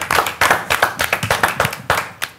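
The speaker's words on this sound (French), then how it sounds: "Merci à toi, on t'applaudit." A small group claps during a discussion session, the sharp bursts of hand claps coming close and loud in uneven rhythmic clusters for a couple of seconds.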